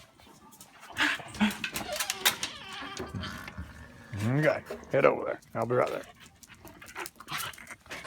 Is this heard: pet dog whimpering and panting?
yes